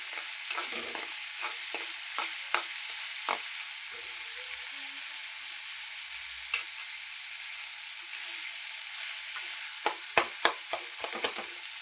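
Mustard seeds and cumin sizzle steadily in hot oil in a pan that already holds garlic, chana dal and tomato. Scattered spoon clicks and stirring taps break the even hiss, and no one speaks.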